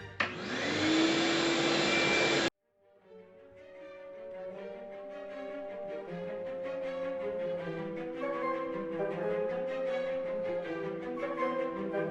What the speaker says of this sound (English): I'm going to start running the Purpleheart through the thickness planer here, and it's going to get noisy again